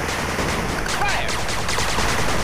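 Dense, continuous gunfire from units in the retro-styled real-time strategy game 8-Bit Armies, a steady fusillade of overlapping shots and bursts with faint voices mixed in.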